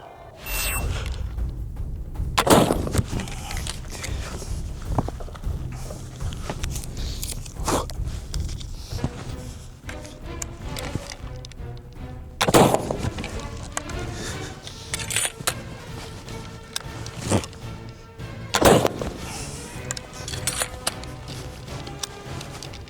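A Baker rifle is loaded with paper cartridges, without a patch, and fired outdoors. Three sharp, loud bangs stand out at intervals among quieter clicks, rustling and metallic handling noises.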